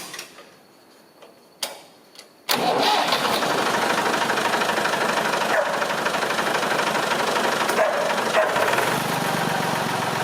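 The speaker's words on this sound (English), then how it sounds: "I'm going to start the tractor and put a couple of revs under it" Faint clicks and knocks, then a Massey Ferguson 20 tractor engine roars to life and runs at a loud, steady throttle with a few small surges, heard close up.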